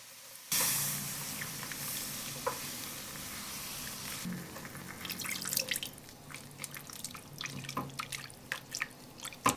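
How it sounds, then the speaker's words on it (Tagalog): Water is poured into a cooking pan holding melted margarine, carrot and garlic, a sudden hissing rush followed by steady sizzling with scattered drips and light clinks. "Magbuhos din tayo ng tubig."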